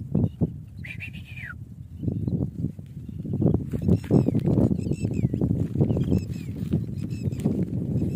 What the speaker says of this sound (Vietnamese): Đằng kia mình thấy một con chim sơn ca mẹ đang hót các bạn, nó bay lên trên trời hót.